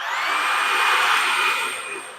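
A Riccar R65 cordless stick vacuum runs on carpet, its motor and brushroll giving a steady, close whirring hum with a high whine that fades slightly at the end.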